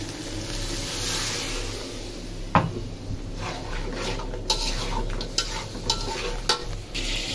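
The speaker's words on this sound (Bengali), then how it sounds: "মাংসটা এই যে কষানো হচ্ছে" Meat being stir-fried (kosha) in a pan with spices and a splash of water, a steady sizzle with sharp scraping clinks of a spatula against the pan at irregular intervals, close and alone.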